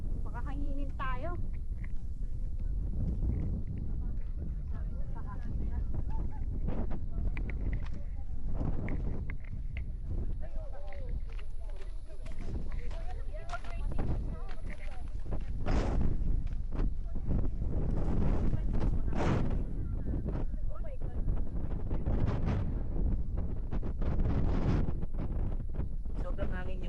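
Strong wind roars and buffets the microphone in steady gusts on Batanes Island, Philippines, with people talking intermittently underneath the rumbling blasts.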